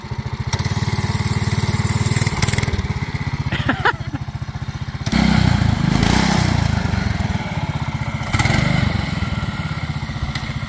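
A MaXpeedingrods 7HP 212cc engine fitted in a John Deere 110 garden tractor runs with a loud, continuous, throbbing putter, rising in surges as the throttle is bumped, close by.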